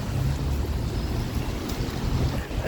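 Wind and pouring rain on a city street walk in Chernivtsi, a steady dense rush of wind buffeting the microphone with a constant low roar throughout, no voices.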